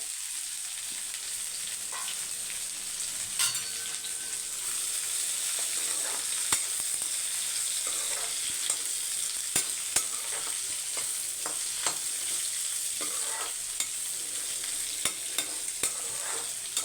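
Green beans stir-fry with chili powder and coconut powder sizzles steadily in a pan, a constant bright frying hiss broken by sharp clicks and scrapes of stirring, with no talk.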